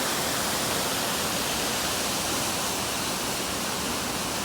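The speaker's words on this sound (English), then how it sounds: "This is Indian Flat Falls, it says on the map." Indian Flat Falls, a waterfall on a Smokies hike, roars loud and close as a steady broadband rush of falling water with no other sounds.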